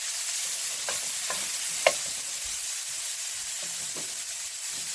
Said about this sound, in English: we're going to throw in our onions and garlic, about half a cup. And let's go ahead and saute that up.